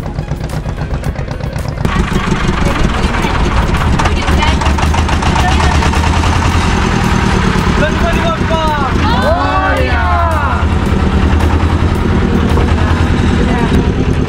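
A motor boat engine runs steadily on a reservoir trip toward a fort, a loud, constant droning hum heard close up. Voices talk over it throughout.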